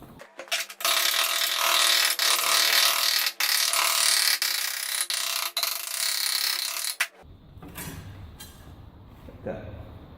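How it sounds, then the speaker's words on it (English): A steel sheet edge is bent over in a vise during an Austin Healey restoration. A harsh, loud grinding-ratcheting noise is broken by sharp clicks for about seven seconds, then gives way to softer clanks with a voice nearby. "So I cut out a piece of steel over there in the vise. We're going to form this edge, this corner, by bending it over."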